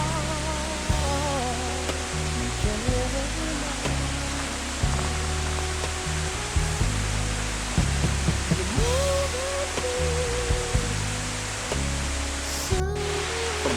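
A river flows on a university compound, a steady broadband rush of water that runs continuously and fairly quietly, with faint tonal sounds in the background and no talk.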